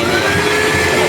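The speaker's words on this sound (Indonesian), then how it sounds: "Kemudian nih salah satunya ada pengering, jadi yang nggak mau pakai tisu bisa pakai pengering" An electric hand dryer in a train toilet blows with a steady, loud, close whirring roar across the whole short span, with nothing else heard.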